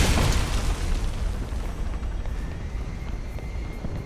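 Missile strike and explosion on an aircraft in the video game Alpha Protocol: a loud, close boom at the start, then a sustained rumbling roar that fills the rest.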